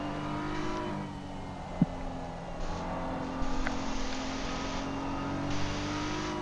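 A Ferrari GT race car engine drones and revs steadily from the onboard cockpit view in a Suzuka 8-hour endurance sim-racing event, loud and continuous with gear changes and brief clicks, no speech.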